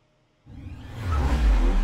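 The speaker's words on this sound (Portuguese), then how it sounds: "E bora acelerar o Renegade Trailhawk." Jeep Renegade Trailhawk 1.3 turbo SUV accelerating hard from about 40 km/h, a sudden engine surge that rises and keeps building in loudness, heard from inside the cabin with a whooshing rush.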